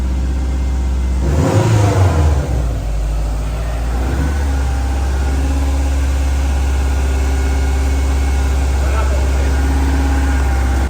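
A rebuilt Subaru WRX Impreza engine, previously non-running, gives a sharp rev that peaks and falls away, then settles into a steady, loud idle with a deep constant drone.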